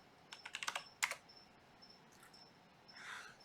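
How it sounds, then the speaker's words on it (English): A quick burst of keystrokes on a computer keyboard, close and crisp, followed by a few sparse taps and a faint rustle in a quiet room. "Let me just type in TLT."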